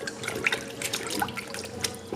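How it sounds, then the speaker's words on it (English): Strawberries being washed by hand in a bowl of cold water with a little produce wash, steady sloshing and splashing with scattered drips, close and moderately quiet, no one talking. "wash them really good."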